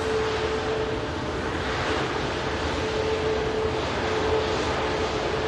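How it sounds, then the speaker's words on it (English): Virgin Atlantic Airbus A350 at Manchester Airport, a steady broadband jet roar held at an even level throughout, with a faint sustained tonal whine threaded through it and no talk. "Soul Rebel Airbus A350 with Virgin Atlantic, of course."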